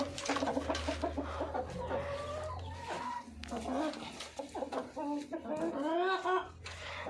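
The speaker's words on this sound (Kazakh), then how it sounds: "Общий 6 тауық бар. Бір әтеш." Six hens of mixed breeds and a rooster cluck and murmur close by in a coop, in overlapping bursts over a low steady hum, with occasional louder drawn-out calls.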